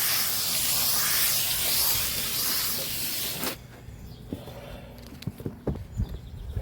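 Water sprays hard against a Trane air conditioner unit during a deep clean, a loud, continuous hiss for about three seconds that cuts off abruptly, leaving scattered close knocks and clicks.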